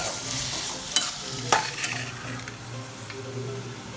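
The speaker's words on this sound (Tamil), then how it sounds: "மூணு தக்காளி பெரிய தக்காளி இது நாட்டு தக்காளி தான் போட்டு நல்லா வதக்கணும்" Garlic and three large native tomatoes sautéing in a pan for a Nagercoil-style tomato kuzhambu, a steady low sizzle with a few sharp spoon scrapes and clinks against the pan, close and without talk.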